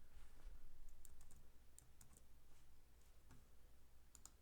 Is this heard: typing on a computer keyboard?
yes